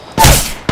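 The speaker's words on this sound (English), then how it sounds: "They're shooting at me." A burst of video game gunfire, a sharp broadband blast lasting about half a second, loud and close, with a second shot starting just after.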